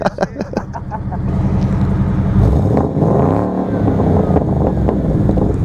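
Suzuki Gixxer motorcycle engine revving through its exhaust, with a few sharp blips at first, then a loud sustained rumble that rises and falls, recorded up close with some wind buffeting.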